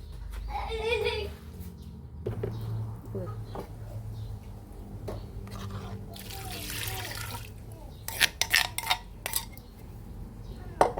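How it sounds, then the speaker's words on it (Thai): Plain water pours into a pot of bamboo shoot curry amid clinking pots, utensils and sink splashes, with people talking over it and a burst of sharp clatters near the end. "เติมน้ำเปล่าไป"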